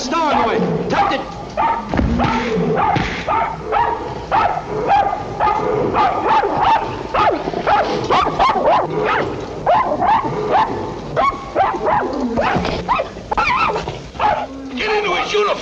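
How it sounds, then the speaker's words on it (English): A dog barks and yips repeatedly amid loud, agitated voices in a 1953 film scene, the barking mixed with shouting and commotion throughout. "Get this dog away."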